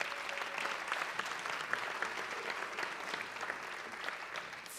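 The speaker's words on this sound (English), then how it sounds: "Round of applause for her." An audience at a school district board meeting applauds a staff member's thirty-year service recognition, a steady, fairly quiet wash of clapping from a room of people lasting throughout.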